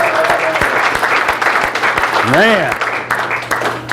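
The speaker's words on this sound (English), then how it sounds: "Let's have a round of applause." Audience applause at a workplace violence training session after a scenario, dense clapping throughout with a voice speaking briefly over it.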